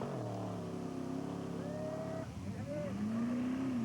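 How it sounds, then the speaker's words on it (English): Pro Truck race trucks, a Chevrolet and a Ford F-150, roar off the start at a Las Vegas 200 race in 2000, engines revving and climbing in pitch as they accelerate, loud and continuous with a crowd-like wash behind. "here's our Pro Truck start with Kevin McGilvery getting things going"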